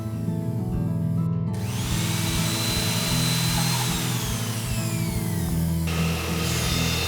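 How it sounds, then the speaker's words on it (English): A power drill bores a hole into the face cheek of a wooden column tenon, whirring loudly at close range after a brief quieter start, then dropping in pitch near the end, with no talking. "I drill a hole in the face cheek of the column tenon."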